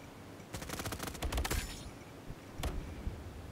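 Gunfire in the video game Front Line: a dense burst of rapid automatic shots, then a pause and a shorter volley, all fairly quiet against a low game background.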